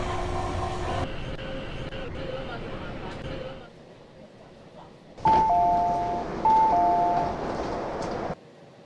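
An MTR Q-Train arrives on the Tsuen Wan Line between Central and Admiralty in the Hmmsim 2 train simulator. A steady rail rumble and whine fades out, then two-tone chimes sound, set against station background noise.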